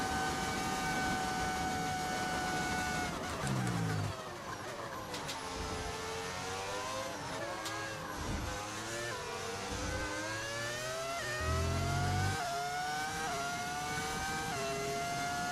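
AI race cars in the F1 25 video game shifting up through the gears, the engine whine climbing in pitch and dropping as each gear engages, close and loud against continuous race-car drone, no talking.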